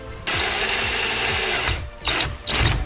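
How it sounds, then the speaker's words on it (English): A power drill bores holes through PVC pipe, a close, loud mechanical whir that runs steadily, then breaks off and starts up again in short bursts. "Now let's carefully, scientifically drill them to be perfectly straight up and down through the center of this thing."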